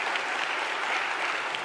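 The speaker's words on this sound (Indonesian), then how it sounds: "Tepuk tangan untuk Mas Andri." A church congregation at a confirmation Mass claps in brief, steady, moderately distant applause, with no voices over it.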